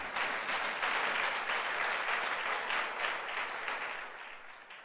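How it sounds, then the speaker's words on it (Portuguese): A crowd claps steadily in sustained applause, fairly distant, with no talking over it. "Dá um aplauso para Jesus."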